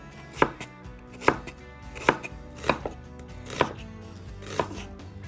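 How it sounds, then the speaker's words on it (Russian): Knife slicing three medium onions into thin half-moon strips on a board for Persian pilaf, six crisp, evenly spaced chops about a second apart, close and clear with no talking. "3 средних лука нарезаем перьями"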